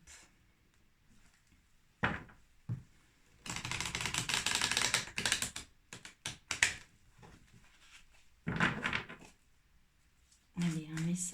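Tarot cards being cut and shuffled by hand, bursts of crisp riffling and shuffling interspersed with brief card taps and pauses in a quiet room.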